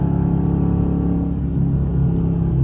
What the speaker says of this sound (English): I'm hitting the gas right now because I'm trying to get over